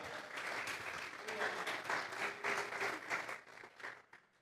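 A church congregation claps their hands together in a steady round of applause, dense and moderately loud, with a voice speaking over the clapping before it tapers off.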